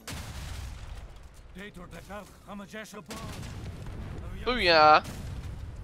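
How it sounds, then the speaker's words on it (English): Explosions in the Age of Empires 3 video game with the Wars of Liberty mod, a series of deep booms under an excited voice, with a louder blast near the end. "one of the explosions has revealed another passage"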